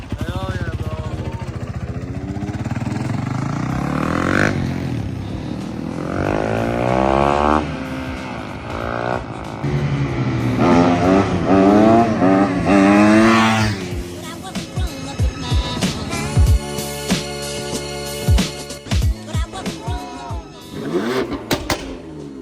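Dirt bike engine revving hard in repeated rising and falling bursts, loud and close, ending in choppy throttle blips, with people talking in places.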